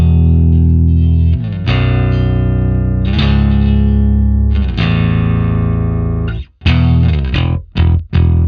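A homemade chambered solid-body electric bass rings out with long sustained notes, run through distortion and effects, several phrases with short gaps and a few choppy, muted stabs near the end, loud and up close with no talk.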